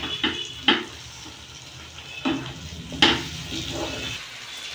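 Chicken being stirred with cashew paste in a pan, a soft background sizzle broken by several distinct scraping and clinking strokes of a utensil against the pan, close up with no talking.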